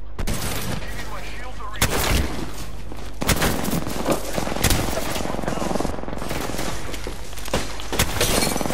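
Dense automatic gunfire and rapid shots fill a video game shooter match, loud and continuous throughout, with occasional sharper bursts and players' voices faintly mixed underneath.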